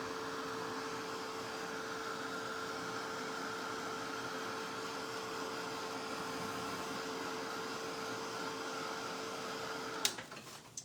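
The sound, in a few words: hair dryer drying paint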